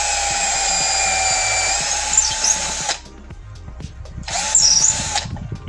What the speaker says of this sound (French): je vais venir faire 3 trous à la même hauteur